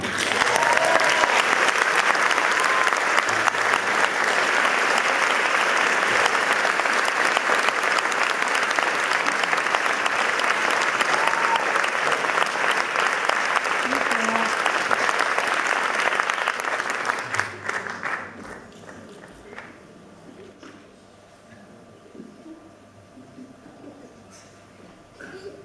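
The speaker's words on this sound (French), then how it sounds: "des tonnerres d'applaudissements" A concert audience at the Printemps de Bourges festival claps in loud, sustained, dense applause for about seventeen seconds before it fades to a quiet hall with scattered sounds.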